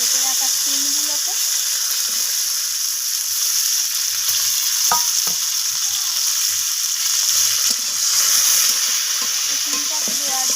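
Sliced flat beans frying in a pan with panch phoron, a bay leaf and a dried red chilli give a steady, close sizzle, broken by scraping stir strokes and one sharp clink of the utensil near the middle.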